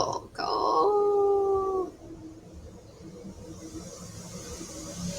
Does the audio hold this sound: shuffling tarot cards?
no